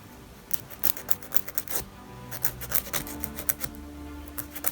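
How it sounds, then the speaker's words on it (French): A 180/100 grit nail file shapes gel nails with quick, light rasping strokes in short uneven bursts, close and quiet, with no talking. "Donc pour ça il vous faut une lime"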